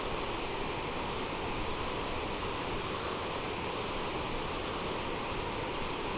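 Steady, broad roar of a CRJ-700 jet's engines blended with rushing wind in Microsoft Flight Simulator, a constant cabin-level drone with no variation or talk.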